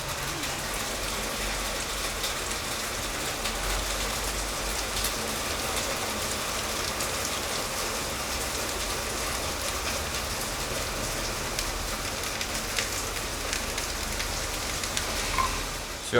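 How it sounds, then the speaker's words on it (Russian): Heavy downpour during a thunderstorm, a dense steady hiss of rain pounding surfaces that holds constant and loud-ish throughout with no talk over it. "тут полный ливень и гроза к тому же"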